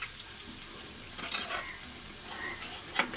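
Onions sizzling in a pan on a home stove while a utensil stirs them, a soft continuous fry broken by a few scraping and clinking bursts, close and fairly quiet with no talk.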